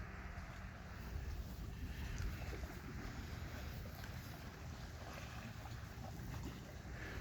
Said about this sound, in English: Just listening to the water, how serene it is.